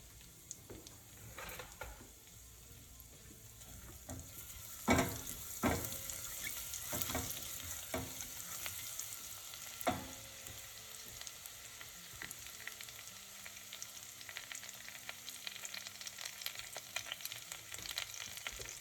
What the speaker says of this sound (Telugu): ఇవి మంచిగా వేగనిద్దాం ఫ్రెండ్స్.